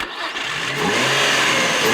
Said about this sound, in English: We're very proud of this engine.